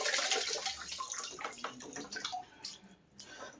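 Water drains and splashes from a pump pulled out of a Rinnai RL75i tankless water heater, a close, quiet trickle with uneven drips and spatters that tapers off.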